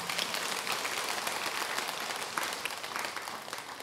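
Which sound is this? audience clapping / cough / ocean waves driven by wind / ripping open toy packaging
audience clapping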